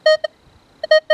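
Short electronic target tones from a Minelab Manticore metal detector set to all-terrain low conductors, probing a horseshoe and nail: a pair of quick beeps, a pause, then three more bright beeps, clean and close with no talk.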